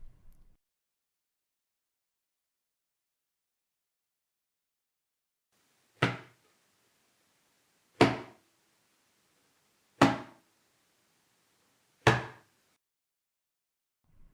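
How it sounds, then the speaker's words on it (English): Four sharp, flat strokes of an open palm on the bayan, the tabla's bass drum, evenly spaced about two seconds apart, each a short dry thump that dies quickly, played alone in a quiet room. "ki is played by placing the hand on the bayu with a flat sound"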